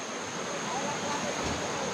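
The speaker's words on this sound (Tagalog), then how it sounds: "ang lakas-lakas na po ang tubig" A strong creek current rushes steadily and loudly in a constant broadband roar that lasts the whole moment.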